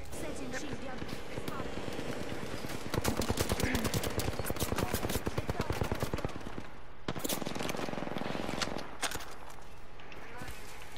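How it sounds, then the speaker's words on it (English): Rapid automatic gunfire in Apex Legends, dense bursts of shots rattling through a busy firefight, with players talking over the shooting throughout. "Now the other team's shooting at you guys."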